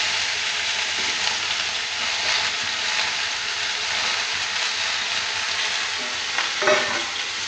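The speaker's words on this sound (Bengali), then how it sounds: "আমি ভালো করে ভেজে নিচ্ছি, জলটা শুকিয়ে আসা পর্যন্ত।" Vegetables for kumro chhakka, a Bengali pumpkin dish, fry in a pan as their water cooks off, a steady, bright, hissing sizzle throughout with a faint stir or scrape near the end.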